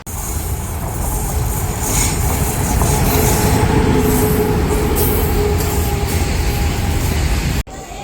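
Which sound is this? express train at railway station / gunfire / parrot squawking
express train at railway station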